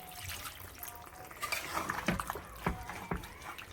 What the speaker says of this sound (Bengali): এবার একটু জল দিয়ে দেব, অল্প একটু জল দিয়ে দেব